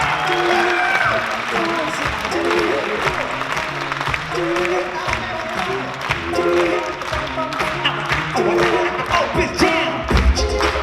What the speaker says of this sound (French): Je voudrais des applaudissements pour Lolo et Lolo